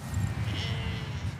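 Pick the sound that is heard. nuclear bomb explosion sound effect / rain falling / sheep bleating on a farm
sheep bleating on a farm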